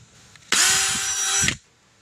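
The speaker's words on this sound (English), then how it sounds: "the reason you're going to drill all these like this is because you're going to start drilling at an angle here pretty quick" A power drill bores a row of holes, running in one loud, steady burst of about a second with a high whine, set between quiet stretches of room tone.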